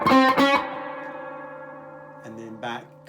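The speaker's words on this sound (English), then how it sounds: "Back to a flat EQ except maximum treble." A guitar plays through a Cornell Romany 12 amp set to a flat EQ with maximum treble. Two quick strums are followed by a bright, ringing chord that slowly decays, then a few softer chords.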